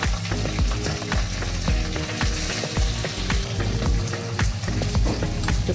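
Pabda fish fries lightly on both sides in a pan, giving a steady, close crackling sizzle with dense popping throughout and no voices.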